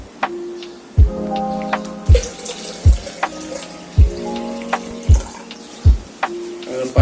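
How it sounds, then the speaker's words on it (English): Cloudy water pours and sloshes as it flows through a pipe, with a run of sharp drips and plops spaced about once a second, close by with no voices. "I'm adding in more cloudy water."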